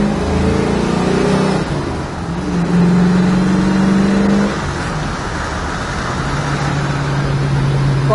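A 1972 Ford Mustang engine revs up hard and roars through rising gears, loud and close, then settles into a steady drone as it pulls away.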